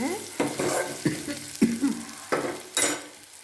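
Onions and curry leaves frying in a pan, with repeated stirring strokes about every half second over a soft, steady sizzle, close and moderately loud.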